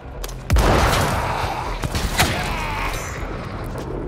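A weapon fires in the video game Dead Island 2: one loud close shot followed by a couple of lighter reports and a lingering rumbling tail, with no speech over it.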